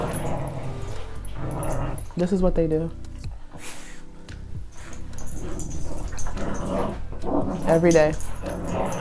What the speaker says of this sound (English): can you hear my dogs fighting in the background?